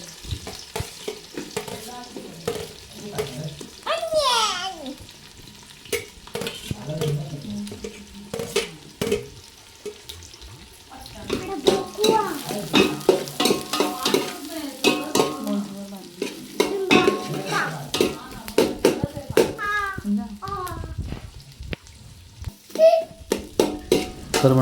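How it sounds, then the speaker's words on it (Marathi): Onion goes into hot oil with chillies in a pan over a traditional wood-fired stove, bursts of frying and stirring between quieter gaps, moderately loud and close, with a few faint voices in the background. "आता कांदा टाकूया त्याच्यामध्ये"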